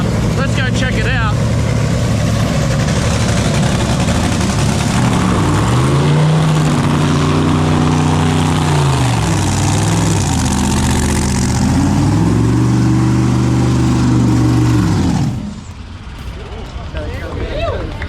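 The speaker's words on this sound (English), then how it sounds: "That unmistakable sound of a nitro top fuel dragster." A nitro top fuel dragster engine at close range, a harsh, crackling roar that holds steady and swells through several revs before cutting out abruptly, with background noise continuing afterward.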